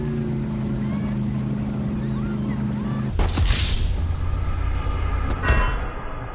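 Motorboat engine hum and water noise from a boat on the ocean in a drowning simulator video game, a steady low drone broken by two sharp splashing surges partway through, fairly loud throughout.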